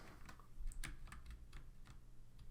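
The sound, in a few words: typing a message on a computer keyboard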